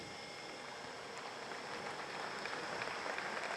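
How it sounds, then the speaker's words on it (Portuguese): An audience, mostly families, applauds at a school centenary parade: a steady, distant wash of clapping that holds evenly throughout. "O público presente bate palmas"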